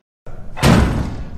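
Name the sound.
knocking on an apartment door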